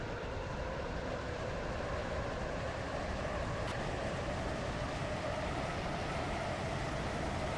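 An electric Electrostar train runs in the Stepford County Railway game, giving a continuous, even rumble of wheels and motor at steady volume with no voices.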